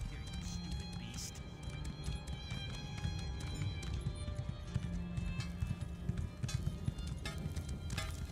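Hooves clop rapidly as a horse runs off in The Elder Scrolls Online, a steady galloping patter under ambient game music and a faint whinny.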